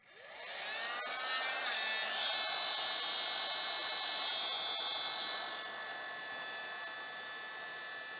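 A heat gun blows on the hub motor of a TC Wanderer e-bike during a repair, a steady close whooshing roar with a high fan whine that starts abruptly and holds without pause, alone.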